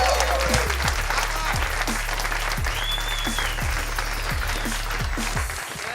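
Sustained audience applause with cheering fills a comedy club after a comedian is introduced on stage at a live stand-up show, loud and dense throughout, easing slightly at the end.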